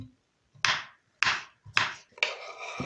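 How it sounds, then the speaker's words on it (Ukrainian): Knife chopping cucumbers into small cubes on a cutting board for an Olivier salad with apple, four sharp separate cuts with short pauses between, close and crisp, ending in a scraping slide. "огірочки також кубиками"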